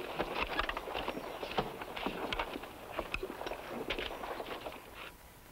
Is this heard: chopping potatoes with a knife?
no